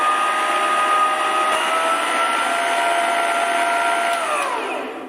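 An electric mixer whirs steadily through vanilla cake batter, a loud continuous motor hum that holds even for several seconds before its pitch drops and it winds down at the end.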